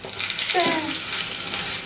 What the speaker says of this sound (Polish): smażymy teraz z jednej strony i z drugiej strony